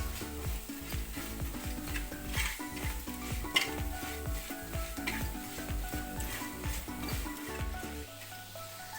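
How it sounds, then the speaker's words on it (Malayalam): Garam masala and black pepper powder roasting in a pan, frying with a loud, continuous close sizzle and rhythmic stirring scrapes throughout. "ഇത് നന്നായിട്ടൊന്ന് മൂപ്പിച്ചെടുക്കാം നമുക്ക്."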